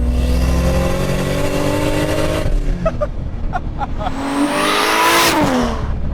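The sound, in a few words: Lexus IS300 with single-turbo 2JZ engine accelerating at full throttle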